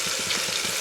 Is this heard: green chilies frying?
yes